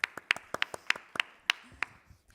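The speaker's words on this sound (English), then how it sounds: "A big applause for the presentation." Scattered handclaps from a small audience after a presentation at an AI conference, about ten sharp, separate claps at an uneven pace, fading out toward the end.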